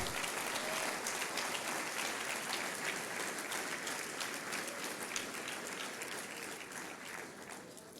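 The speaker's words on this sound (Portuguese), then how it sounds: "Você pode dar uma salva de palmas ao Senhor Jesus?" A church congregation applauds together in honour of Jesus during a prayer campaign service, a dense, steady wash of many hands clapping that carries on for several seconds before tapering slightly toward the end, with no voices rising above it.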